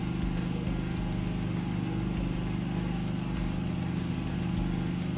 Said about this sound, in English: Please don't mind the background noise. There's no light and I'm using the generator.